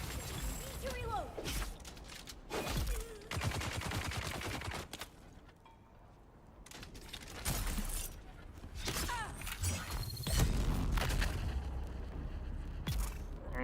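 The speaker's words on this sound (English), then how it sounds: "Need to reload." Weapon reloading and bursts of gunfire in the Dune Awakening video game, with metallic clicks and mechanism sounds between loud repeated shots, nearby and punchy.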